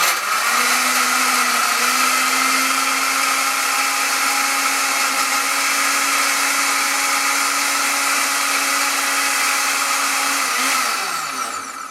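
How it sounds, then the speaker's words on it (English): An electric blender runs continuously with a steady high whine and dense roar while blending tomatoes with added water, loud and close throughout with no talking, the motor tone dropping as it winds down at the end. "Because if you don't add water to a blender, sometimes it spoils the blender."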